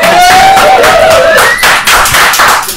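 Close, loud clapping from a reception audience after a speaker, individual claps audible in a dense burst with a tonal whistle or squeal sliding up through the first half.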